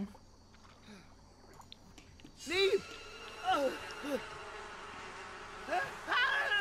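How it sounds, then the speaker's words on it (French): A swarm of bees attacks a character in The Sims 4, buzzing in swelling bursts of several seconds against a faint background, with a voice talking underneath. "Il se fait attaquer par les abeilles."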